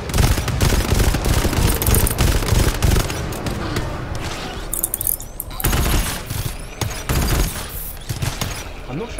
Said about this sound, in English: I'm not sure how I feel about this new machine gun.